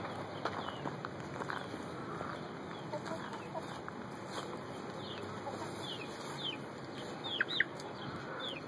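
Chickens cluck and chirp steadily in an outdoor yard, with scattered short calls over a constant background hiss.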